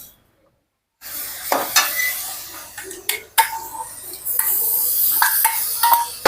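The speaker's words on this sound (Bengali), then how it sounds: "চিনিটা দিয়ে এখন কফিটাকে ঢেলে দেব।" Coffee poured over sugar into a hot wok hits the metal with a sudden loud sizzle, then a steady hiss continues with scraping stirs and clinks of the pan.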